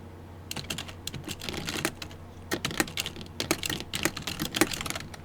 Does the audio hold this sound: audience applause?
no